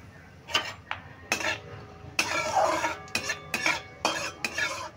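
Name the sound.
stirring and frying tempering spices with asafoetida in a pan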